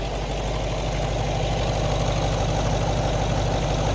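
A Range Rover L322's 3.6 V8 diesel idles steadily at close range, giving a constant low rumble with a light, even clatter and no revving.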